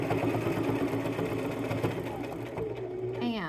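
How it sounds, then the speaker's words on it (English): A sewing machine top stitching a vest, running with a steady, rapid mechanical whir and chatter, close up, then slowing as it winds down, with a voice briefly audible near the end. "I'm going to top stitch them down"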